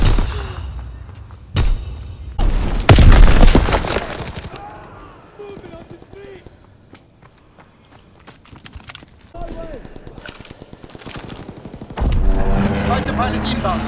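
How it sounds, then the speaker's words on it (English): Gunfire bursts from a fighter plane's strafing run in the Call of Duty WWII video game, loud rattling volleys near the start and again at the end, with voices and game sounds in between. "Fighter pilot inbound, strafing the target."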